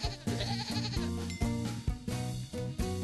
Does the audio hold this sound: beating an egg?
no